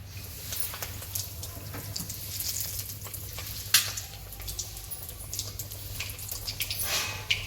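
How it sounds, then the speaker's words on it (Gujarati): Cutlets fry in hot oil with a steady, close sizzle and crackle throughout, with occasional sharper pops and spits rising above the bubbling. "તો આપણે તરી લઈશું."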